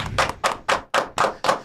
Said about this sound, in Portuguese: Recebam uma salva de palmas